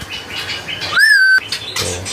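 A single clear, high songbird chirp rising then holding steady, close and loud, from a bird in a hanging cage, set against a busy background of other birdsong and outdoor noise.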